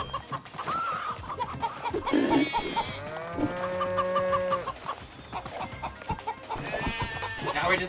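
Farm animals in the video game Moving Out, including a pig and a chicken, make clucking, crowing and mooing calls. Several cries overlap at close range and moderate volume, with no speech.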